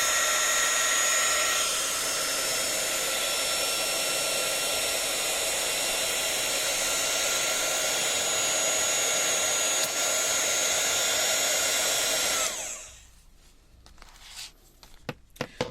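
Embossing heat tool warming up, a loud steady blower whir with a high whine that runs for about twelve seconds before switching off, followed by quiet handling clicks and taps.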